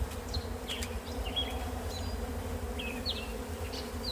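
A steady, close drone of honeybees buzzing fills a beehive inspection at a tall skyscraper-style hive. Faint chirps sound now and then above the hum.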